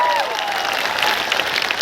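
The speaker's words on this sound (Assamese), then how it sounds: "মই সকলোকে নিজৰ নিজৰ পিতৃ মাতৃৰ বাবে ডাঙৰ কৰি এটা হাত চাপৰি বজাবলৈ অনুৰোধ কৰিছোঁ" An audience claps at a police appointment ceremony in Assam, a dense, steady patter of many hands that fills the whole moment, fairly loud.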